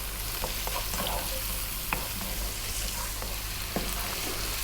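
Onions and garlic with salt and black pepper fry steadily in a pan, a continuous close sizzle broken by a few light stirring scrapes, with no talking.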